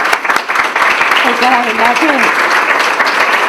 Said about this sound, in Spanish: Así que le damos un fuerte aplauso a Isabel